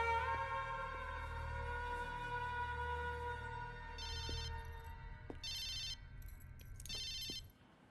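A telephone rings in a tense action film scene, a sustained electronic ringtone with bursts of high ringing repeating several times, fairly close, with no talk over it.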